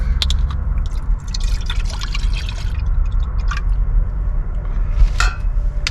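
Water is poured into a dog's metal bowl inside a van, giving quick splashes, drips and light clinks at close range over a low steady hum, with no talking.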